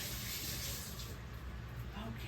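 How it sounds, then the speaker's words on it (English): Tap water runs steadily into a kitchen sink while hands are washed during Sunday soul food cooking of collard greens and cornbread, a close, continuous rushing splash filling the whole moment. "Let me wash my hand first."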